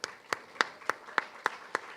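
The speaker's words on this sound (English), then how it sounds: "Let's give her another round of applause." Audience applause at a community health talk: a sparse, slow run of seven evenly spaced claps, fairly faint and distant, with a quiet gap after each.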